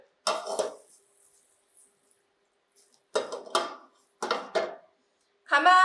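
A few short metallic clatters and scrapes of a dry pot being moved with butter melting in it, in separate bursts with quiet gaps between, close by.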